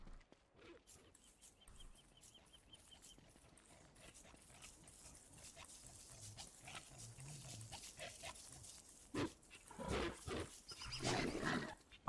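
Hounds attack in the video game Don't Starve with snarling, growling and barking sounds that build in bursts and grow louder toward the end over a low game background.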